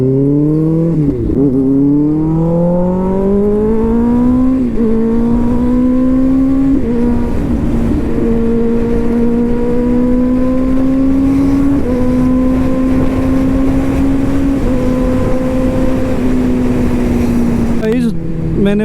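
A go-kart engine hums steadily up close through a drive on a karting track, its pitch stepping up and dropping with each change of speed, with a brief clatter near the end.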